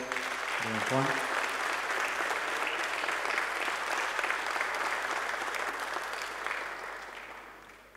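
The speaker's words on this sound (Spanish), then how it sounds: "Aplauso, don Juan." Sustained audience applause at a Mogán ceremony honouring local police officers for more than twenty years of service, a brief voice at the start, then steady, dense clapping that tapers toward the end.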